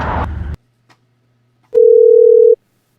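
A short burst of line noise cuts off into near silence, then a single steady telephone tone sounds loud and clean for about a second before stopping as a call connects.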